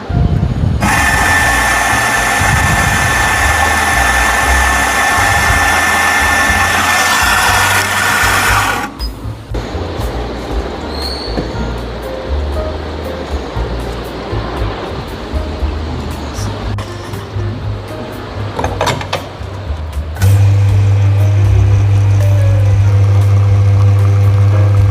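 A coffee grinder beside a café espresso machine whirs with a loud, steady motorized buzz for about eight seconds, then drops to a quieter background hum before a low drone rises near the end.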